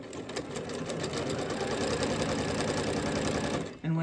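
A sewing machine runs steadily for nearly four seconds, back stitching through towel fabric with a dense, continuous mechanical whirr, then stops briefly before restarting. No voice is heard.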